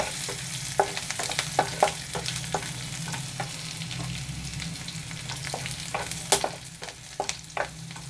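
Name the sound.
green chillies frying with cumin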